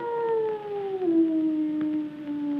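A dog howls in one long, mournful, steadily falling tone that carries on for a couple of seconds, close and clear with no talking.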